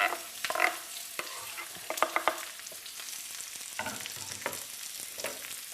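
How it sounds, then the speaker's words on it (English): Onions dropped into hot oil and stirred, giving a steady broad sizzle with scraping and clinking stir sounds on top, close and moderately loud, no talking. "When your oil's hot, just go in with the onions."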